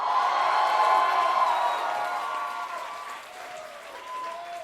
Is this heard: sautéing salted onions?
no